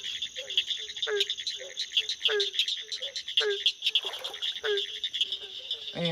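Repeated hollow barking calls of a barking tree frog at night, evenly spaced, over a constant high-pitched chorus of insects and other frogs.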